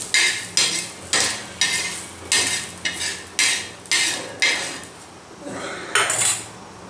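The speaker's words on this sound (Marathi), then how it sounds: "कांदा काढून घेते" Fried onions scooped out of a pan with a metal utensil, producing a rapid series of clinks and scrapes, about a dozen close, bright hits in a loose rhythm over a faint sizzle.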